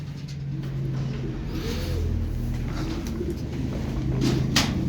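Racing pigeons coo softly in low, rolling murmurs over a steady background hum, with occasional faint rustling.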